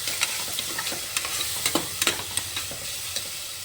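Goat tripe browning in hot oil with ground ginger, garlic and coconut paste gives a soft, continuous sizzle, broken by quick scraping stir strokes of a spoon against the pan, close and fairly quiet.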